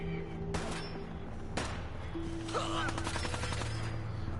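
Gunfire in the Fallout video game, a few sharp shots ringing out over a steady game background hum, followed by a burst of rapid repeated fire, moderately loud.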